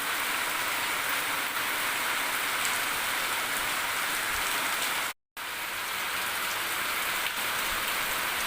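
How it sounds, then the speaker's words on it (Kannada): Heavy rain falls steadily on a rural village farmstead, a dense, loud, unbroken hiss of drops on surfaces that lasts throughout, with one brief dropout midway. "ನಮ್ಮ ಊರಿಗೆ ಒಳ್ಳೆ ಮಳೆ ಕೃತಿಕಾ ಮಹಾನಕ್ಷತ್ರದ ಮಳೆ"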